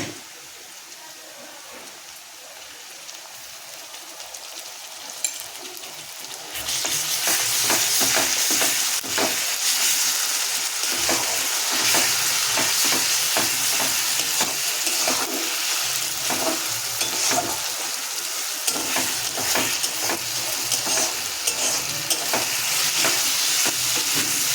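Ginger garlic paste hits browned onions in a pan: quiet at first, then a sudden loud, sustained sizzle with crackling spits and stirring that carries on steadily to the end.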